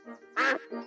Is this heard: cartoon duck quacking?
yes